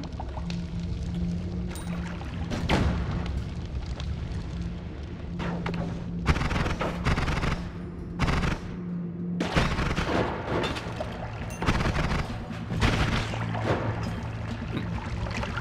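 Explosions in the video game Noita boom and crackle again and again, a dense run of loud bursts over a steady bed of game sound.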